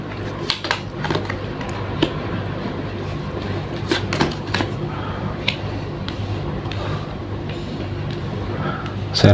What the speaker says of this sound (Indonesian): Saya rapikan dulu sisa kartunya